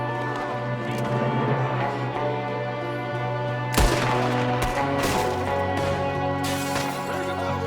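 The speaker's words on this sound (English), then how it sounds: "There's another one shooting from the window." Gunfire in Red Dead Redemption II, a busy in-game shootout with overlapping shots and a sharp louder blast near the middle, layered over constant background music and game noise.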